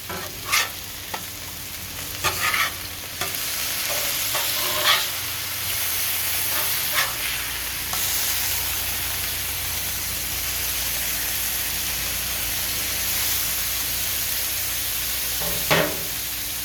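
Burgers sizzle steadily in a pan after being flipped, a continuous bright frying hiss with a few spatula scrapes and clatters near the start and end, no voices.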